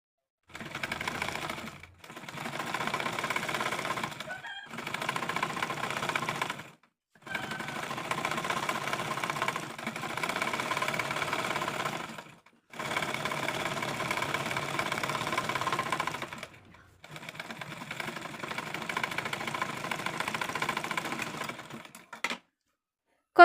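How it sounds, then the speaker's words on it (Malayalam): A sewing machine steadily stitches a midi dress in long continuous runs, broken by several brief pauses, with a close, even mechanical whir and no talking. "ഭംഗിയായിട്ട് മടക്കിയിട്ട് സ്റ്റിച്ച് ചെയ്ത് കൊടുക്കുക."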